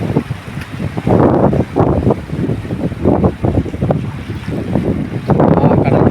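Sea waves surge onto the shore at Ratnagiri in repeated rushing swells, loud and near, with gusts of wind buffeting the microphone between the crashes.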